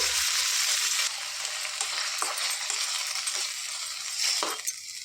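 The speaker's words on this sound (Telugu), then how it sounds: "టమాటా ముక్కల్ని వేసి వేయించుకోవాలి ఇందులోనికి చింతపండు కూడా వేసుకొని వేయించుకోవాలండి" Tomato pieces and tamarind fry in oil in a pan for a fenugreek-leaf chutney, with a dense close sizzle that eases after the first second, broken by light stirring clinks and scrapes, no voices.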